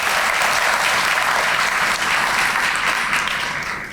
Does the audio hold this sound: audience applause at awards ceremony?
yes